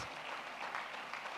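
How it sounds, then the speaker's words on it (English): An audience applauds the landship dancers at a live performance, a steady, dense crackle of clapping hands sustained evenly throughout with no voices over it. "a warm round of applause for the landship dancers"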